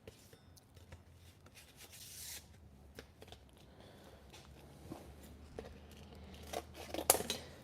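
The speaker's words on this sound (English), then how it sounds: "I'm just cutting the excess knife sheath." Scissors snipping off excess material from a knife sheath, a series of faint, irregular close-up cuts and rubbing sounds that grow a bit louder toward the end, with no talking.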